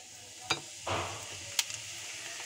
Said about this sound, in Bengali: যে তেলের মধ্যে মাছ ভেজেছি সেই তেলের মধ্যে আমি দিয়ে দিচ্ছি জিরে ফোড়ন